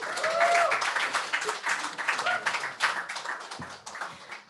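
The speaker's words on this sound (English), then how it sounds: "applause for round one." A small crowd applauds with scattered clapping that swells briefly and then gradually thins out.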